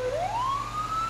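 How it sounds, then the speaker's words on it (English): A single video-game police siren tone sweeps upward in pitch and then holds steady, loud and continuous over a low engine rumble, with an electronic, game-like quality. "I think we could take one of the sirens off"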